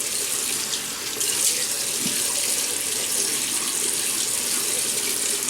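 A bathroom tap runs steadily into a sink while a face is wetted for shaving, a constant close splashing hiss with faint irregular spatters from hands in the stream, no speech.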